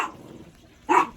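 Harley, a pet dog, gives one loud close bark near the end after the tail of an earlier bark.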